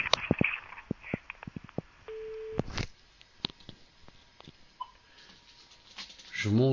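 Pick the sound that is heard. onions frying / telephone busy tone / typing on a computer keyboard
telephone busy tone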